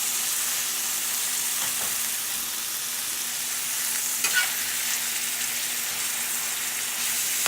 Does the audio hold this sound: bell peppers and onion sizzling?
yes